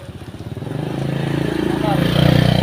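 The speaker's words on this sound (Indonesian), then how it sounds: "Awas lho motor sik." A motorcycle engine runs close by at a home, its rhythmic putter growing louder and rising in pitch as it approaches and revs past, with a voice briefly heard.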